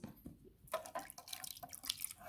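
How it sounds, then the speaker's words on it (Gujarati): Water splashing and dripping as silver idols and vessels are rinsed by hand, irregular wet trickles and splashes close by with no talk. "હવે હું તમને આ પાણીથી ધોઈને બતાવું"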